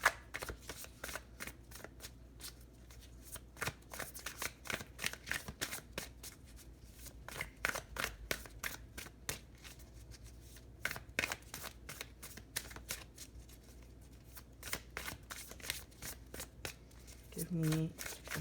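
Tarot cards being shuffled, a long run of rapid riffling and flicking bursts that continue for most of the time, close and fairly quiet.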